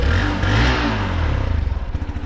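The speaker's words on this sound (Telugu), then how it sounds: "ఒకసారి ఎగ్జాస్ట్ నోట్ అయితే వినేద్దాం ఎలా ఉంటుందో" A Hero Xpulse 200 4V motorcycle revs close by, its exhaust rising into a loud, rough growl and then settling into a rapid, pulsing idle throb. No one speaks.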